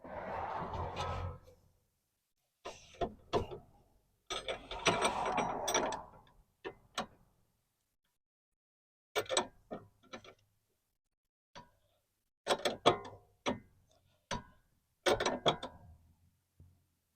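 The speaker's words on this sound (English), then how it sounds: "now that we've got the hex bit holding and the wrench on, we're going to break this free." A wrench and hex bit work on a sway bar end link nut on a 2014 Chevy Equinox. Close, loud bursts of ratcheting clicks and metallic clanks come in separate groups, with silent gaps between them.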